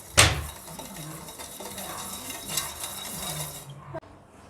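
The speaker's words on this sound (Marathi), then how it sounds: "याला पण मिक्स करून घेऊ." Hot chocolate ingredients being stirred with a utensil in a pot or bowl, with a sharp clink at the start followed by steady scraping and swirling sounds at close range. No one is speaking.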